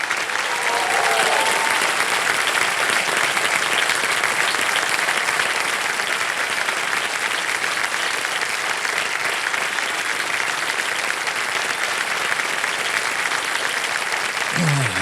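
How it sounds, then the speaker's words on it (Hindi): On the game show Kaun Banega Crorepati, the studio audience claps loudly and steadily for about fifteen seconds, a dense, uniform wall of applause that fades out abruptly at the end. "एक बार फिर जोरदार तालियां इन दोनों बेटियों के लिए।"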